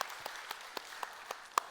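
Sparse, faint claps from a church congregation during a Sunday sermon, spaced individual hand claps rather than a full ovation, heard at a distance.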